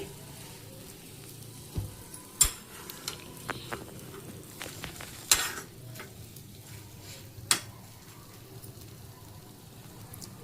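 Bread or a burger patty fries in a pan with a steady low sizzle, broken by several sharp scraping clicks from a spatula being turned and moved.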